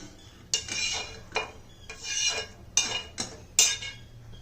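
A spoon scrapes and clinks around a bowl while stirring onion and green chilli into wheat rava dosa batter, five or six distinct close strokes in a rough rhythm, quiet between.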